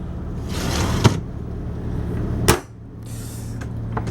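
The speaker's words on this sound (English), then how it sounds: "Good, solid closing doors, too." Two sharp wooden thuds of hardwood cabinet doors shutting in a 2004 Allegro Phaeton Class A diesel motorhome stand out over a steady low hum, with a quieter knock near the end.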